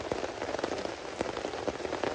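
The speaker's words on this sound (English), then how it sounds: "If it continues pouring down rain like that" Heavy rain pours down in the Appalachian Mountains during moto-camping, with a constant close patter on a surface and scattered louder drops tapping through it.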